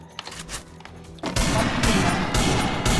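Desert Eagle gunshots crack in a video game, starting with a few sparse shots and then a loud, rapid run of heavy reports with short gaps between bursts.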